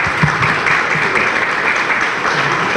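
Steady welcome applause for a lecturer, dense and even throughout, filling the room with continuous clapping at a fairly loud level.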